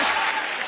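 Studio audience applause on a TV comedy show, a brief dense burst of clapping heard on its own.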